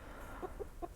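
Chickens scratching around a compost pile on a tropical permaculture homestead give three short, soft clucks in quick succession, faint over a quiet outdoor background.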